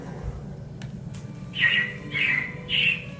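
Three clear, high robin chirps from the Carousel of Progress show at Disney World come in quick succession after a quiet stretch, each a short bright call over faint background hiss.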